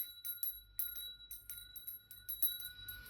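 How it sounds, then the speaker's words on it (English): A small bell rings in repeated bright, clear strikes over about three seconds, each strike leaving a sustained high ring, with no talking. "Okay, I'm going to ring the bell."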